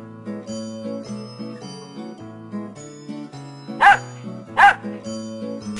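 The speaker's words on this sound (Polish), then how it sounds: "Pies!" A cartoon dog barks twice, short loud yaps over a gentle farmyard children's music backing, in an animated Polish kids' farm scene.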